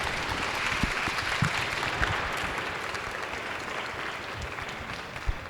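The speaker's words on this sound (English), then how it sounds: "Let's give our panelists one last round of applause." Audience applause for the panelists at the close of a community panel event, a steady broadband wash of clapping sustained for the full span, moderately distant, with no talk over it.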